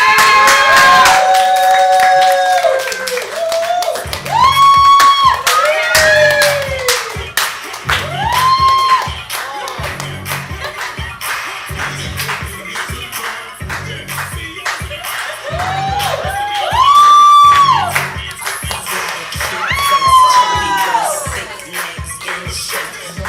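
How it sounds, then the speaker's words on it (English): A live improv comedy audience claps and cheers for a two-man act, the applause swelling and fading in waves with bursts of whooping, while music with rising tones plays over it and the crowd noise stays loud throughout. "please get your hands clapping for Kyle and Kendon!"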